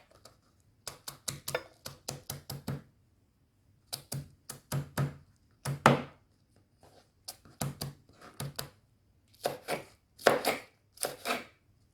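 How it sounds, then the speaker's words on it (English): Scallions are chopped with a knife on a board in quick bursts of sharp, close taps, each run of several strokes separated by short quiet pauses. "So we are going to move on to our scallion now."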